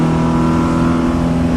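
1960 Alfa Romeo Giulietta Spider in a Forza racing game, its engine humming at a steady, loud drone as it takes a run of turns, with no speech over it.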